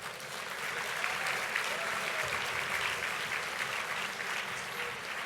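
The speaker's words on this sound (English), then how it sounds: "I think that deserves a round of applause" Steady applause from a dinner audience at a closing plenary, dense and even throughout with no break, the clapping spread across a large room at moderate distance.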